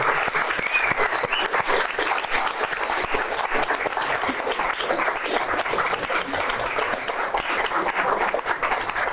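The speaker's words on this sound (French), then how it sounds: "Je pense qu'on peut applaudir les intervenants qui étaient là." Sustained applause from a crowd, dense steady clapping filling the whole stretch with no voices standing out.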